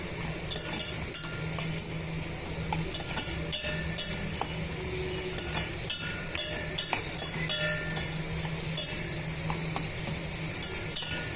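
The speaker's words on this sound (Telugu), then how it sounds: "ఇప్పుడు ఈ గీలోనే డ్రై ఫ్రూట్స్ యాడ్ చేసుకోవాలి డ్రై ఫ్రూట్స్ యాడ్ చేసుకున్న తర్వాత ఇవన్నీ బాగా వేగనిద్దాము" Dry fruits fry in ghee for semiya kesari while a metal spoon stirs them, making a steady soft sizzle broken by frequent sharp clinks and scrapes against the pan.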